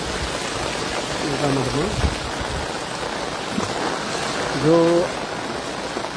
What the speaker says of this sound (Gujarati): પુષ્કળ પ્રમાણમાં પાણી જઈ રહ્યું છે